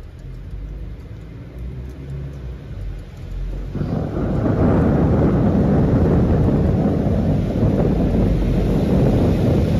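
Thunder during a summer thunderstorm rolls as a deep, sustained rumble that swells louder partway through and stays heavy, with rain-like hiss and wind noise around it.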